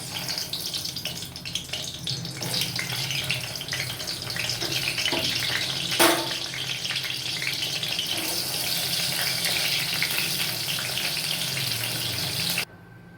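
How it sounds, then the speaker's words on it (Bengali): Eggplant pieces coated in turmeric fry in hot oil, a loud, dense, continuous sizzle close up with a few brief clatters, steady until it cuts off abruptly near the end. "দিয়ে বেগুনগুলো উল্টে পাল্টে আমি এক এক করে ভেজে নিলাম।"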